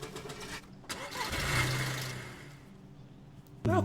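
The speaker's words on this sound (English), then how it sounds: "Don't start the engine yet." A car engine starts in a video game, a short cranking whir that catches and settles into a faint idle, quiet and close.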